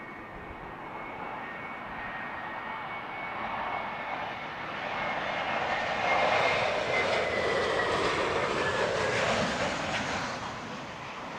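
A Lufthansa Airbus A320neo arriving at Heathrow Airport passes as a steady, moderately distant engine roar that builds to a broad peak and then holds, with no voices.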